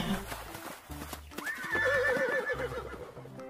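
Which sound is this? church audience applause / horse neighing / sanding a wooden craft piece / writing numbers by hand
horse neighing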